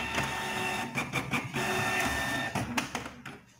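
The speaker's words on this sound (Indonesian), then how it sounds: "kita print sertifikat aslinya." A printer printing a certificate, with steady mechanical whirring and rhythmic clicks and clunks from the paper feed for about three and a half seconds, heard alone and close.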